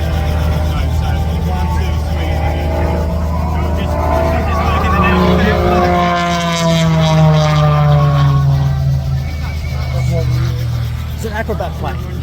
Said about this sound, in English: an acrobat plane. He's crazy.